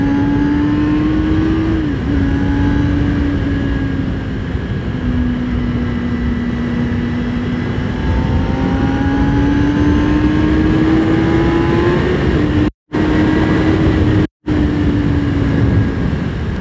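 A 2005–2006 Kawasaki ZX6R 636 motorcycle on stock exhaust accelerates on wet, slippery roads, its engine note climbing steadily and loud alongside heavy wind rush, with two brief dropouts near the end.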